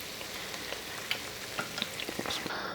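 Sweet ripe plantain slices fry in hot oil in a pan, a soft, steady sizzle with scattered pops and crackles, heard close and fairly quiet.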